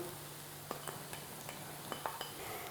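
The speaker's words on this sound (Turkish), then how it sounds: "Ve şimdi iyice karıştıracağım." A utensil stirs cream and cheese in a pan for a keto quiche, with soft scraping and a few light clinks and taps against the pan, quiet and close, no talking.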